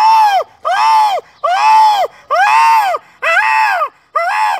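A man imitates a peacock with his voice: six loud, piercing, arching cries in a steady rhythm, each separated by a brief silence, close and clear with no other sound.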